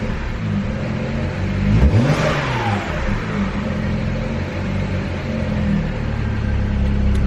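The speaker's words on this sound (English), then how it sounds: "I tap the gas." A car engine on a stock intercooler setup revs up sharply as the gas is tapped, a loud, close surge that rises and falls back to a steady idle rumble.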